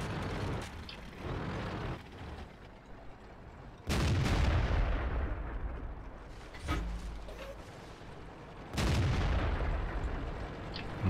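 Tank cannon shells fire in the World of Tanks video game, three sharp booming shots spaced several seconds apart over a rumbling engine and battle background.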